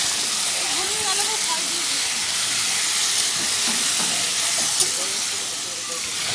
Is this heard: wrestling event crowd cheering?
no